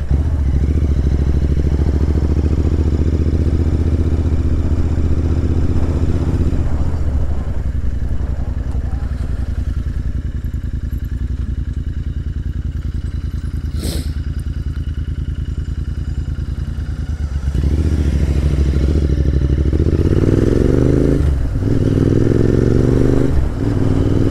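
A Royal Enfield Interceptor 650 motorcycle being ridden, its engine droning steadily and loud throughout, easing off midway and then revving back up through rising gear pulls near the end, with wind and road rumble underneath.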